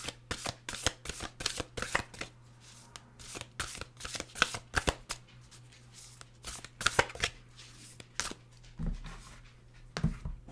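An oracle card deck is shuffled by hand in quick, crisp riffling bursts that repeat irregularly, close and fairly quiet, with short pauses between bursts and no talking.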